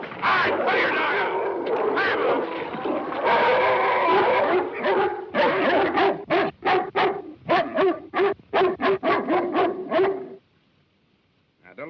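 A dog barks repeatedly, first amid a busy mix of voices and noise, then in a rapid series of sharp, loud barks before falling silent; people talk around it.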